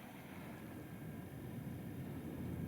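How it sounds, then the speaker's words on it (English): A steady low roar of a jet aircraft passing overhead in East Anglia, heard faintly from indoors as a continuous rumbling wash with no other sounds. "Plenty of jet noise outside again, as is often the case in East Anglia."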